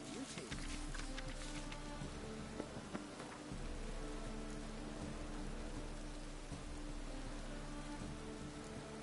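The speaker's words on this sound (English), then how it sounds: "And it's raining." Steady rain hisses and patters on the ground in The Witcher 3, a continuous wash over a low droning music bed, with faint hoof sounds early on and a voice speaking briefly.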